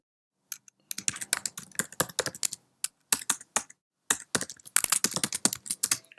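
Fingers type on a computer keyboard to write a tweet, producing rapid, close, clicky keystrokes in irregular bursts separated by brief pauses.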